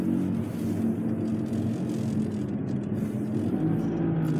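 A car rolls slowly into a Chick-fil-A parking lot, giving a steady low engine and road hum at close range with no voices, the tone even throughout.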